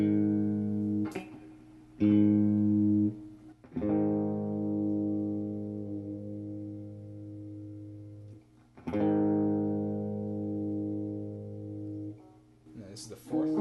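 Sustained electric guitar chords ring out, each struck and left to decay, forming a slightly out-of-tune fifth interval. Several strums sound with clear pauses between them, close and fairly loud, with no talking.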